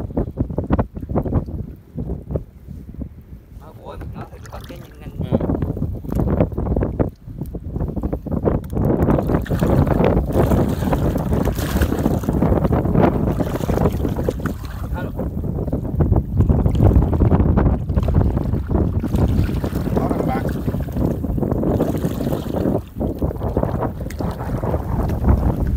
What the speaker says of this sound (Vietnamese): Trời gió quá bạn ơi.